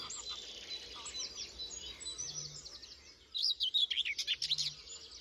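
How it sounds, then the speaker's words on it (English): A recorded dawn chorus of birdsong, with overlapping high chirps and trills from several birds, a brief low call twice, and a louder bird singing rapid warbling phrases near the end. "We're listening to a clip of the Dawn Chorus recorded"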